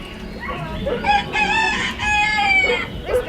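At Epcot, a rooster crows in a long harmonic call, with chickens clucking around it, fairly close and loud.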